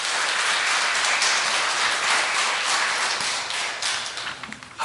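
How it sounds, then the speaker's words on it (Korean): Sustained applause from a large church congregation at an Easter service fills the room, steady and dense, then thins out toward the end. "큰 격려의 박수 부탁드립니다"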